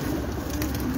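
Pigeons coo softly on a rooftop in Dhant Pura, Sheikhupura district, a brief low burbling call set against a steady background hum with no talking.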